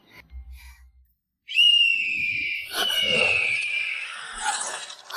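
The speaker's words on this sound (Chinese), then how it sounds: "只要我一吹哨子，它指哪儿打哪儿" After a near-silent pause, a shrill, sustained whistle blown to command a red-tailed hawk rings out suddenly and holds for several seconds, wavering slightly in pitch.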